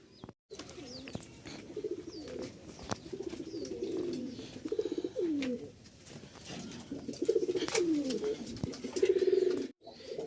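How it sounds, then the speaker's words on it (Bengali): A pair of tumbler pigeons kept at a seller's loft in Mirpur coo close by in repeated soft, rolling phrases, with a few faint chirps and light handling bumps between them. "এখানে এক জোড়া হাতবাজির কবুতর আছে"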